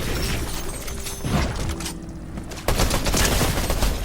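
Strike AR assault rifle fire in Fortnite, heard as a dense, loud fusillade of rapid shots with booming impacts continuing throughout, no talking over it.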